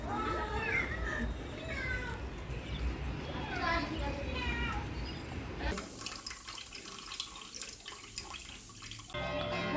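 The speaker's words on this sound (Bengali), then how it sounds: "এই বিড়ালটা কোথায় থাকে?" A cat indoors gives several short meows in the first half, mixed with running or dripping water and nearby voices, before the sound turns to a quieter, different background.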